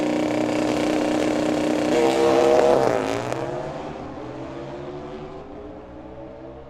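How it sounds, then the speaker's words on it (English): A Harley-Davidson Destroyer drag racing motorcycle roars past at a drag strip at Firebird Motorsports Park, loud and close at first, its engine pitch dropping as it passes and the sound fading into the distance. "Another one of those Harley Davidson Destroyers."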